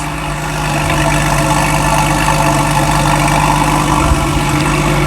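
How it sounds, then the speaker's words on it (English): An air-cooled flat-six engine in a Porsche 993 911 idles steadily and loudly up close, a deep even rumble with a smooth mechanical hum throughout. "there are few cars that sound as good as, an air-cooled 911"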